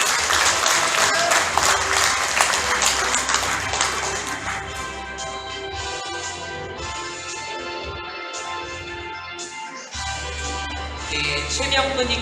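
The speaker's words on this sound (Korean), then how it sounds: "다시 한번 큰 축하 박수 부탁드립니다." Audience applause at a Korean White Cane Day award ceremony for the visually impaired, sustained clapping from a sizable crowd that gradually softens, then swells again near the end.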